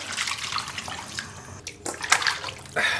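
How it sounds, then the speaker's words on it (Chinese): Raw chicken pieces rinsed under cold tap water in a kitchen sink, a close, splashing gush of running water with brief pauses and louder bursts of spray. "咱们先拿冷水给它洗一下。"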